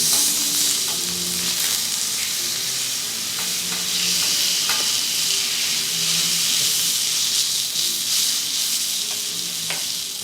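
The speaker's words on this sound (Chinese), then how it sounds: "光听烤牛肉的声音就会不自觉地流口水" Kobe beef steaks sizzle steadily on a restaurant grill in Japan, a loud, continuous frying hiss with faint crackles, close up and with no talk over it.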